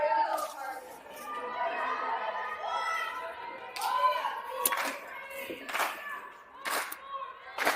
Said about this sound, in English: we got the clapping going